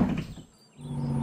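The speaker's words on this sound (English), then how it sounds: "The doors are closing." Doors of a cartoon bus slide shut with a brief whooshing glide, dipping quiet for a moment before a steady engine drone resumes, loud and close with no voices.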